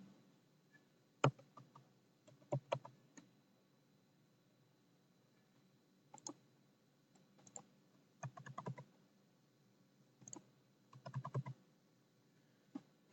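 Bursts of typing on a computer keyboard while a user ID and password are entered, quiet clustered clicks separated by short pauses, close and alone.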